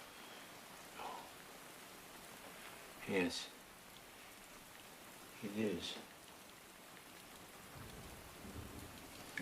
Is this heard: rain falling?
yes